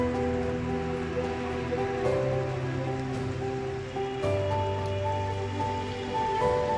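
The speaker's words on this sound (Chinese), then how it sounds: "随着这个暴雨越下越大" A heavy rainstorm pours over Lanzhou city streets during a severe storm with flooding, a dense, loud, steady hiss of rain on surfaces with sustained low tonal hums running underneath throughout.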